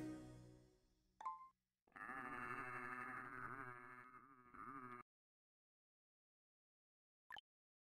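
Farm livestock in the Settlement Survival video game bleat in a drawn-out, wavering cry lasting about three seconds, preceded and followed by short isolated calls, with silence between them.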